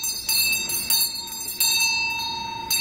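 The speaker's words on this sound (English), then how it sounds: "I ring my bell every day." A hand bell rings with repeated bright metallic strikes, each tone sustaining and overlapping the next in a steady rhythm, close and fairly loud with no voices.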